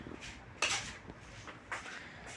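Spoons clink against dishes as a home meal of roti, milk and vegetables is served, giving a few faint, separate metallic taps and scrapes against quiet room noise.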